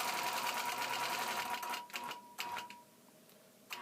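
A sewing machine stitches out a quilting pattern in a steady, fast, close run of needle strokes for about two seconds, then slows and breaks into a few short separate bursts.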